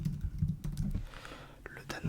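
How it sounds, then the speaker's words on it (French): Computer keyboard typing in a quiet ASMR-style setting, with a close, soft, uneven clatter of keystrokes and a faint whispering voice underneath. "J'espère que le bruit du clavier est cool."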